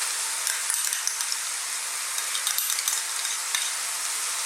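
Tomato paste is worked into a moussaka sauce sizzling in a pan, giving a steady close hiss broken by light intermittent scraping stirs, with no voice.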